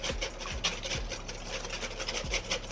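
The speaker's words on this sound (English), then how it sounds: "And then we're gonna whisk them up real good" Eggs whisked briskly in a bowl for a brunch dish, giving a steady, rapid scraping and clinking rhythm of strokes that stays close and fairly loud throughout, with no talking.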